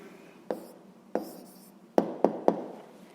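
A pen writes an answer on paper while a sixth-grade maths exercise is being worked, making five close, sharp taps and short scratches spaced unevenly over a few seconds with no voices.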